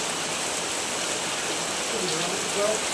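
Unseasonal rain pours steadily outside a house, a broad continuous wash of water noise with a faint voice briefly showing near the end.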